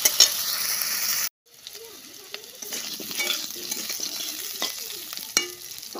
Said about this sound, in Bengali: এখন একটুখানি লবণ দিয়ে আলুগুলো ভালো করে ভেজে নিই